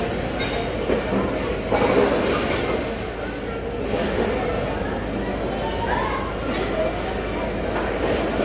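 A moving Pakistan Express passenger train on the Lahore to Faisalabad route, heard from inside an economy class coach: a steady, loud rumble of running wheels and carriage noise throughout, with faint chatter from passengers underneath.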